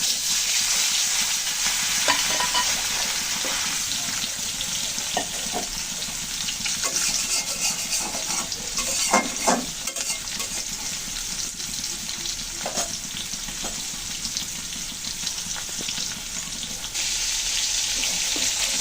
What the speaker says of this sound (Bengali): তেল তো গরম হয়ে গেছে। এখন দিয়ে দিচ্ছি মাছ।